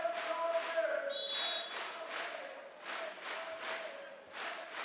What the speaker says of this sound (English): Crowd trying to ramp up